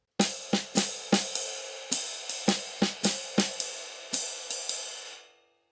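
Ride cymbal and snare drum playing a jazz comping pattern, with a dozen or so bright, ringing strikes in an uneven swung rhythm, close and loud, the cymbal wash sustaining and fading out at the end.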